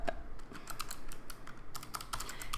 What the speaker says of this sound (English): all you do is just type in the name.